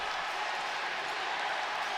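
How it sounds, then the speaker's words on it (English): Steady wash of crowd noise at a FIBA Basketball World Cup game between Senegal and the Philippines, a dense cheering roar in the arena that holds constant throughout without clear breaks. "The crowd gets into it."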